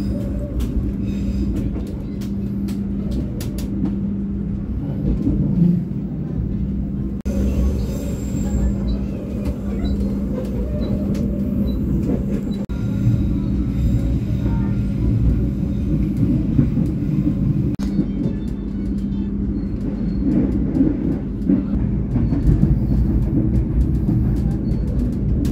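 Argo Wilis passenger train rolls through the hills of Garut, a continuous low rumble of wheels on rail with steady droning hum, heard from on board throughout.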